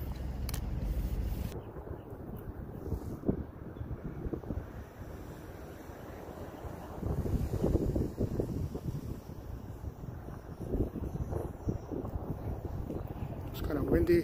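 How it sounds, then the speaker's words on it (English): Gusty wind buffets a microphone on a monopod outside a post office, a steady low rumble that swells and eases throughout, with faint voices underneath. "It's kind of windy."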